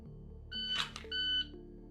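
A shot timer sounds during a dry-fire pistol drill with a 0.6-second par time: two short, sharp electronic beeps about half a second apart, clear and close over a faint background hum.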